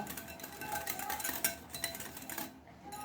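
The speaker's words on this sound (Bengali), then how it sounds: "এবার এটাকেও আমি ভালোভাবে একটু মিশিয়ে নেব" Yogurt drink is stirred and mixed in a pot, with quick scraping and clinking of a utensil against metal, fairly close, ending in a short lull; no talking.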